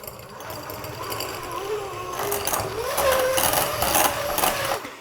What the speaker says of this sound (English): we're gonna take a mixer and I'm gonna just beat it until it's smooth